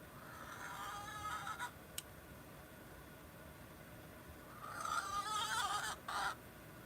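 Chickens inside a wood pile give two bursts of clucking and squawking, one early and a louder one near the end, with quiet background between.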